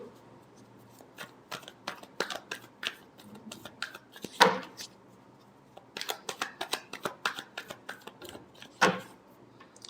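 Tarot cards being shuffled, rapid close riffling flicks in bursts with a couple of louder slaps as the deck is squared, no talk during.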